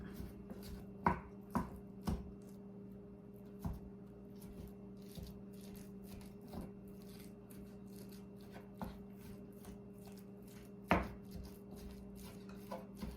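A pound of pork sausage is broken up in a pan over medium-high heat, with scattered sharp taps and scrapes of a utensil against the pan over a quiet, steady background.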